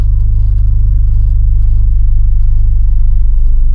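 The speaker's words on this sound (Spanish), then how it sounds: "Ahí ya mi carro cambió el sonido." A car engine idles with the brake held while the clutch is partly released, a loud, steady low-pitched rumble with an even pulsing throb and no speech.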